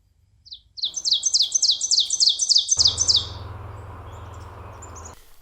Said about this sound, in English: I definitely hear a pine warbler up there.